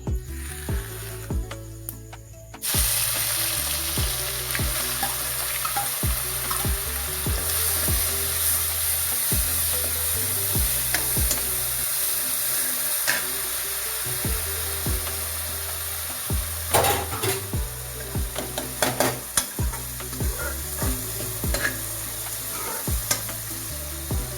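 Onion, chillies and four or five garlic cloves fry in a hot pan for a soya chunk curry, a steady sizzle with scraping stir strokes and occasional clatter, continuous and close throughout after a brief quieter start.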